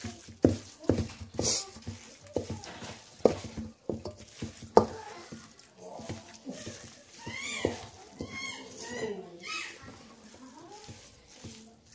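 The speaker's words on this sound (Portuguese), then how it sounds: "Agora vamos mexer." Pão de queijo dough stirred in a pan, giving repeated soft scraping and clacking strokes that come fairly close at first, then fade under a voice and other quiet household voices.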